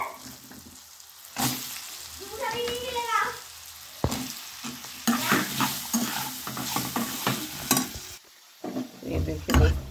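Cut carrot and radish stirred into hot oil for a winter mixed pickle, the gas already off: a steady scraping stir and sizzle, broken by brief pauses.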